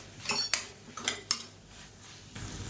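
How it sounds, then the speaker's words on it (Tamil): A utensil stirring bitter gourd curry with sesame powder in a metal pan, scraping and clinking against the sides in several quick, close strokes with short pauses between them. "சேர்த்துட்டு நல்லா பரட்டி விட்டுக்கலாம்."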